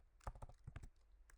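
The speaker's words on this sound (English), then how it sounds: "you can just go ahead and type this command" A MacBook keyboard clicks out a short burst of about seven quick keystrokes as a Terminal command is typed, faint and close with no speech.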